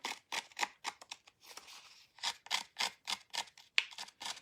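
Scissors snip steadily through embossed cardstock in a quick, even run of close crisp cuts with brief pauses, and the blades catch slightly on the raised pattern.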